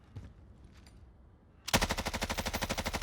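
Sustained automatic fire from a Bruen Mk9 rifle in Warzone, a loud rapid burst of evenly spaced shots starting suddenly after a quiet stretch with faint background sounds.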